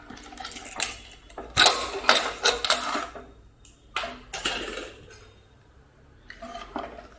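A metal pot lid being lifted off cooked rice with grated coconut and salt, sharp clanks and scrapes of metal on metal in several bursts, close and moderately loud, with quieter pauses between.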